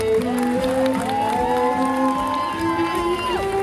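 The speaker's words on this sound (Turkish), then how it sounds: "Şöyle damat bey bir cesaret alkışı gelsin mi değerli dostlar?" Wedding guests applaud and cheer for the groom at a wedding ceremony, a steady wash of crowd noise running under a loud, sustained melody.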